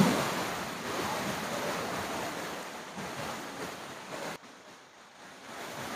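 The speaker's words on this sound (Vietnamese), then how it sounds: "nước chảy quý vị thấy nè, như thác đổ luôn" Water pours down from Núi Dài mountain near a cave entrance at the Vạn Liên site like a waterfall, a broad continuous rushing hiss with wind buffeting the microphone, dropping abruptly quieter near the end.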